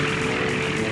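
Early Sikorsky XR-4 helicopter in flight, a steady, loud rotor and engine drone running unbroken and close throughout, with no talking.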